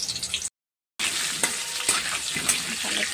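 Turmeric-coated marinated chicken fries in hot oil in a kadai, giving a steady, loud sizzle broken by a brief gap and then continuing with faint scraping and crackle.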